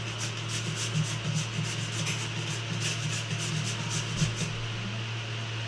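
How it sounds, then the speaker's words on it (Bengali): A potato is grated on the large side of a grater in a kitchen, with steady rhythmic rasping strokes, close and continuous, with no talk. "গ্রেটারের বড় দিকটা দিয়ে আমি আলুটা ওপর থেকে নিচের দিক পর্যন্ত ঘষে নেব"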